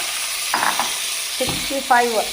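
Chicken 65 fries and is stirred in a pan, a constant close sizzle with a few brief scraping stirs of a utensil against the pan, no one speaking.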